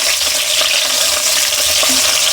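Stuffed brinjals fry in hot oil with a loud, steady, crackling sizzle that fills the whole stretch, with no talking.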